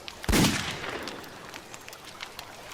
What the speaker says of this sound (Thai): เสียงปืนก็ดังขึ้น1 นัด